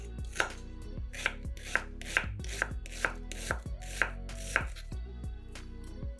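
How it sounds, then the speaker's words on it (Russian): A knife chops one onion into cubes on a board, about a dozen crisp, evenly spaced knocks, close and clear with no talking. "Одну луковицу нарезаем кубиками."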